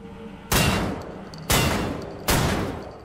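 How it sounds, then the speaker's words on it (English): A gun fires at chains in the video game Wolfenstein: The New Order, three loud, heavy shots spaced about a second apart, each followed by a decaying tail. "So apparently this gun can't shoot through chains"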